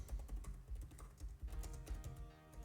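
Typing on a computer keyboard while filling in an app installer window, a faint quick run of soft key clicks in uneven bursts.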